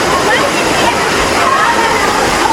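Water rushes and flows loudly in the Miryang Ice Valley (Eoreumgol), a dense, close, continuous roar of a stream or small cascade filling the whole clip.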